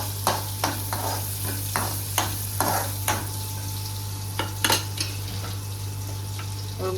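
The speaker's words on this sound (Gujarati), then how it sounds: "સૌથી પહેલા નાખ્યું છે થોડું તેલ, પછી પનીર ફ્રાય કરી દઈશું" Paneer fries in a little oil in a home kitchen pan: a steady sizzle runs under repeated sharp clinks and scrapes of a spoon against the pan, with a constant low hum behind and no talking.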